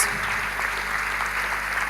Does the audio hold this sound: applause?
yes